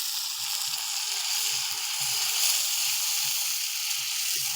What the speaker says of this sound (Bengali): জল দিলে মশলাটা ভালো করে কষানো হবে।